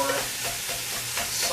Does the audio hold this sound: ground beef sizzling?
yes